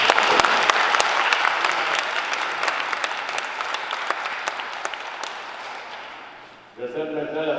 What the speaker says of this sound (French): On peut les applaudir maintenant.